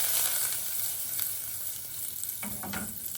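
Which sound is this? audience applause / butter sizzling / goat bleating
butter sizzling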